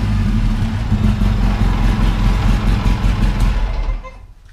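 Polaris RZR 800 side-by-side engine running smoothly after a new fuel pump, a steady close idle drone that holds for about four seconds, then cuts off and fades.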